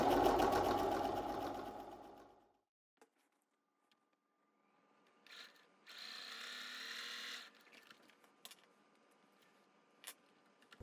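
A sewing machine chain-pieces quilt fabric, half-square triangles fed through one after another without cutting. A loud stretch of stitching opens, then a quiet pause with small clicks, then a shorter run of stitching and a sharp tap near the end.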